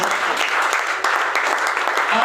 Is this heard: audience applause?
yes